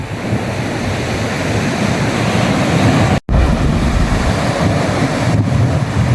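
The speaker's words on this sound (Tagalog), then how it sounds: "Lakas ng alon." Strong ocean waves at the shore near Poro Point, a loud continuous roar of surf mixed with heavy wind buffeting the microphone, with one brief dropout partway through.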